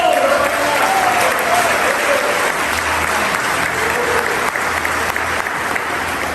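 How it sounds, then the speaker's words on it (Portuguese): A church congregation breaks into sustained, loud applause, a dense wash of clapping from many hands that fills the whole stretch evenly, with faint voices mixed in underneath. "pode aplaudir ele"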